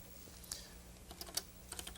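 A few faint, scattered keystrokes tap irregularly on a computer keyboard in a quiet room during a classroom computing demonstration.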